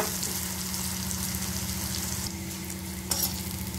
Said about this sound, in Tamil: பாருங்க நல்லா மொறு மொறுனு ட்ரை ஆயிடுச்சு